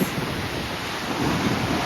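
Atlantic Ocean surf at Cabo da Roca, a steady broadband wash of breaking waves with wind rushing across the microphone, heard alone without talk.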